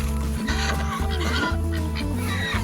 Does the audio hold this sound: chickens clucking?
yes